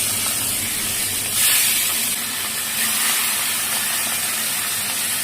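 Katla fish pieces sizzle as they fry in hot oil, a loud, steady, close hiss that swells briefly when more pieces go into the pan.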